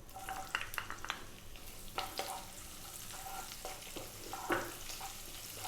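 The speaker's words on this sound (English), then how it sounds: "We're just going to let those cumin seeds do their thing in the oil for a few seconds." Cumin seeds sizzling in hot oil, a quiet, steady crackle close by with several light scrapes and taps of a spoon stirring the pan.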